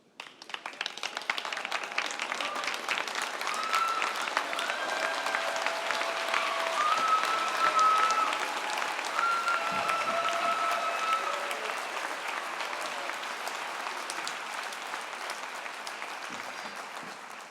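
Large crowd applauding graduates at a 2023 McMaster University convocation, a sustained roar of clapping across a big hall, peaking midway and slowly easing off.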